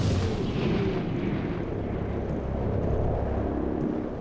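Gunfire in the game XCOM: Chimera Squad, a loud blast at the outset rolling into a sustained, heavy rumbling roar that holds at steady loudness to the end.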